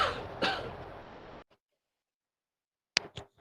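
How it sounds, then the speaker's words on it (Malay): A person coughs and clears their throat: a rough burst followed by a sharper hack, a pause of silence, then two short, quick coughs. "Sekejap saya batuk sekejap."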